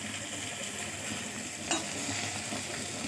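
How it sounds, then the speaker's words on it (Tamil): Ingredients for a Tamil kurma, including coconut, being stirred and sautéed in a pan, giving a faint, steady sizzle with the soft scrape of a spoon, close by and with no voices. "இப்போ நல்லா வதக்கி விட்டுக்கோங்க."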